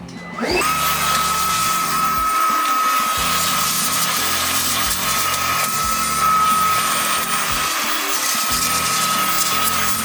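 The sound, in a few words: vacuum cleaning engine intake area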